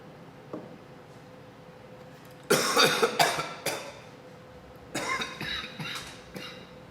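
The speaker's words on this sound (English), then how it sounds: "God, that was a dry cough." A short series of dry, harsh coughs, close to the microphone, followed after a pause by a few more hacking coughs in a quiet room.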